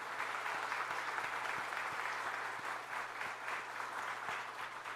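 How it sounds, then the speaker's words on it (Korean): Encouraging applause from a church congregation for Sunday school teachers and their minister during a worship service, a steady, moderately soft wash of clapping that holds evenly throughout. "우리 전도사님 교사들 위해서 한번 격려의 박수 한번 드립시다."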